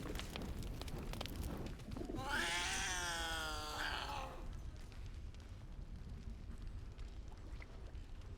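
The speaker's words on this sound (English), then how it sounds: "Oh, there's a cat." A cat in the video game Baldur's Gate 3 lets out a single long, wavering meow lasting about two seconds, clear and close over a quiet ambient background.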